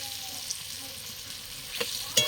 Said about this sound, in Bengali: এবার আলু দুটোটা ভেজে নেব